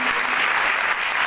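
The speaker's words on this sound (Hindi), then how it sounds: "इस बात के लिए जोरदार तालियां" Dense, steady applause from an audience at a Christian praise and worship gathering in Youhanabad, Lahore, filling the short moment loudly and evenly from start to end.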